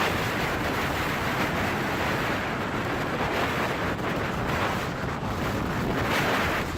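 Stormy wind roars and waves crash around a large Dutch fishing vessel at sea. The noise stays loud, dense and constant throughout, with wind buffeting the microphone.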